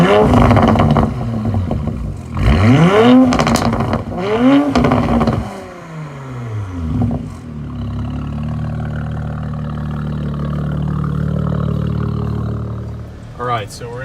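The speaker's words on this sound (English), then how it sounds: "GTS with the MBRP catback that you guys just heard and the flat 6 motorsports intake" A 2021 Porsche Macan GTS 2.9L with an MBRP catback exhaust and a Flat 6 Motorsports intake revs loudly several times in rising and falling sweeps, then settles into a steady, deep cruising drone.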